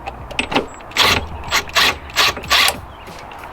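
Hose clamp on an Audi TT 1.8T intake boost pipe being loosened with a ratchet, five or six short bursts of close, crisp clicking separated by brief pauses.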